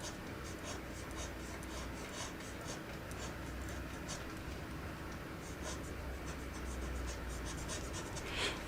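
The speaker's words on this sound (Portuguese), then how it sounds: "quando eu quero apagar e deixar, por exemplo, uma linha mais sutil, a Mono Zero funciona bem para isso" Mono Zero eraser rubbing over fine pencil lines on drawing paper, a soft continuous scratchy friction at close range, steady and quiet, no one speaking over it.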